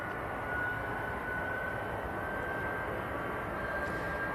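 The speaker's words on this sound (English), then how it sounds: "Do have another all-white 737 taxiing out as well" An all-white Boeing 737 taxiing out at Manchester Airport, a steady distant engine rumble and broad roar holding level throughout with a faint high whine above it.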